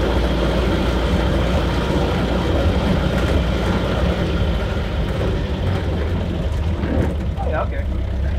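A 1930 Ford Model A sedan engine runs steadily with a rattly, low idle that fills the whole stretch, and people talk over it.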